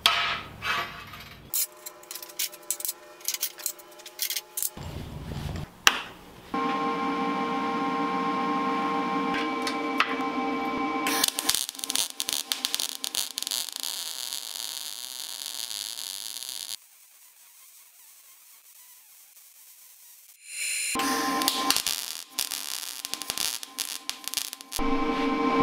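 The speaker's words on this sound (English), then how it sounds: "Now I'm gonna weld up the pipe." Arc welding on a metal pipe gives bursts of crackling buzz between quiet gaps, some short and some sustained for several seconds, close and fairly loud, with scraping and tapping of tools in between.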